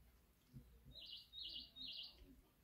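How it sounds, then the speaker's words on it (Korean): A small yellow sparrow chirps in three quick bursts of high twittering song, fairly faint over a low background rumble. "노란 참새야."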